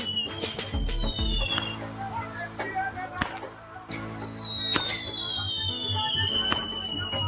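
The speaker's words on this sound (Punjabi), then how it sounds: "ਤੁਸੀਂ ਦੇਖ ਸਕਦੇ ਹੋ ਜੀ ਪਟਾਕੇ ਚੱਲ ਪਏ ਆ ਜੀ" Firecrackers and whistling rockets burst at a village celebration of Guru Nanak Dev's birth anniversary, with scattered sharp bangs and long shrill whistles, and a voice speaking over the display.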